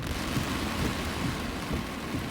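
Heavy rain falls in New York, a dense, unbroken downpour hissing and pattering on surfaces at close range, with a low rumbling undertone.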